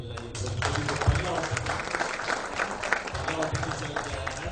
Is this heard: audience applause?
yes